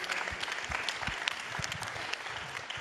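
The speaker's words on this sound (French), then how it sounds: "On peut applaudir le maire de Mauléon," An audience at the Congress of Mayors of France claps for a mayor. The applause is a dense, sustained patter with individual claps standing out, heard alone without speech.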